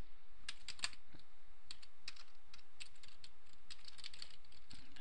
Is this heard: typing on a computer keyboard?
yes